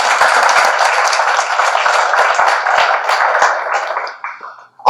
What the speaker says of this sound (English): Please give a loud round of applause for Mr.